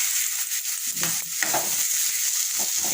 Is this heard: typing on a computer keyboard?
no